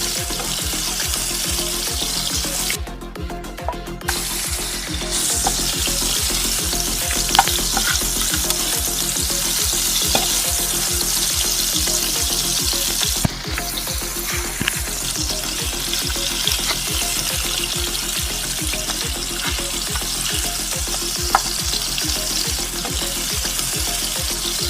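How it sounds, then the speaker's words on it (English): Cut vegetable pieces fry in warm oil in a pan over a low flame, giving a constant loud sizzle with a steady rapid ticking stir beneath it and no voices. "add all cut pieces of vegetables in a warm oil and fry it for 3 to 4 minutes"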